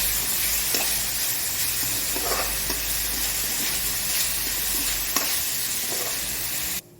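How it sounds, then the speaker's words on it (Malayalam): Curry leaves and onions sauté in a hot pan, giving a steady, loud sizzle and hiss throughout, with a few faint stirring scrapes and no talking. "കുറച്ച് കരിവേപ്പിലയും കൂടി ഇട്ട് കൊടുക്കാം. ചെറുതായിട്ട് വഴറ്റുക."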